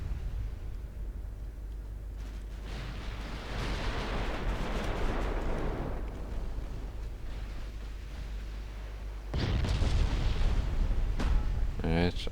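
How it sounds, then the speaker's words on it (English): Secondary guns on a warship firing in the Ultimate Admiral Dreadnoughts naval game, a steady rumbling barrage of booms and bursts over low background noise, swelling louder toward the end, with someone talking over it. "All secondary guns on Ingersoll."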